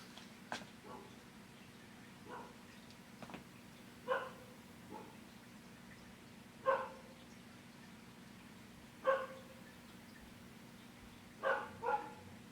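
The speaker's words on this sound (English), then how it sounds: "now we got a dog barking too" A dog barks in short, scattered bursts at a moderate distance, a few single barks and some quick doubles spread over a quiet background.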